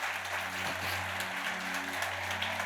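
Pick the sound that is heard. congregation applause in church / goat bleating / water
congregation applause in church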